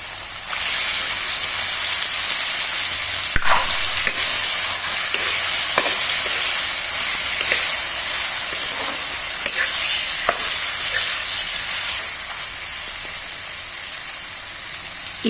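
Mutton liver fries with softened tomatoes in a karahi, a loud continuous sizzle with scattered scraping clicks of stirring, steady and close without talk.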